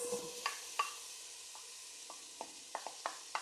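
Chopped onions drop into melted butter in a pot and are stirred, giving a faint sizzle with soft scattered clicks and scrapes from the utensil, quiet and without talk.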